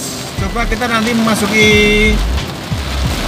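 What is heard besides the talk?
heavy rain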